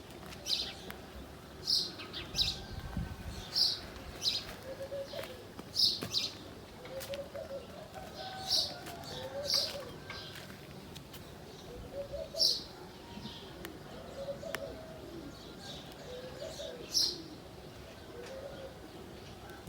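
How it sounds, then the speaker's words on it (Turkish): Birds chirp and call repeatedly at a distance, with soft cooing notes in between over a quiet outdoor background. "Kuş sesleri."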